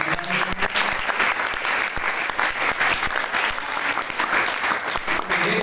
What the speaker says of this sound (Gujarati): જોરદાર તાળી પાડશો